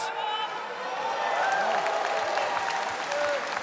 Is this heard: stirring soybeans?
no